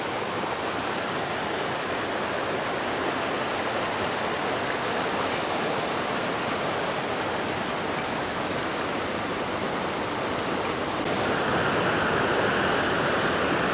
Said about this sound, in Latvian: Šis noteikti ir daudz iespaidīgāks par pirmo redzēto ūdenskritumu.